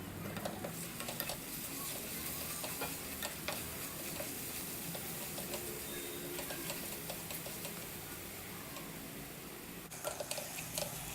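Onion paste fries in a pan with chopped garlic and ginger. A soft, continuous sizzle runs throughout with faint ticking spatters, fairly quiet and without speech.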